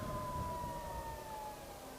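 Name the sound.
Harley-Davidson LiveWire electric motorcycle motor whine while riding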